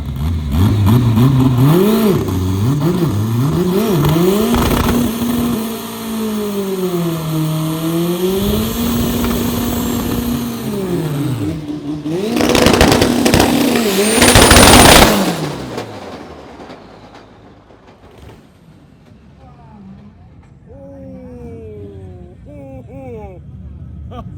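A drag race car makes a loud run at a Thailand drag meet, its engine revving and sweeping through gears for about fifteen seconds before cutting off. Fainter mechanical noise follows, and the metal-on-metal clanking is not clearly separable.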